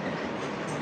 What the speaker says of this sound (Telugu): ఇప్పుడే ప్లాట్ఫామ్ నెంబర్ 2 మీదకి అయితే గూడ్స్ ట్రైన్ కూడా వచ్చింది. వ్యాప్ 7 లోకోతో డబుల్ వ్యాప్ 7 లోకోస్.